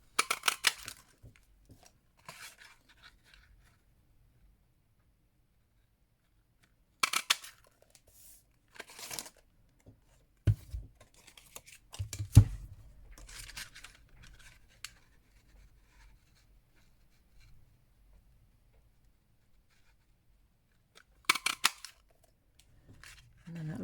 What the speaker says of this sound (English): Let's just punch those out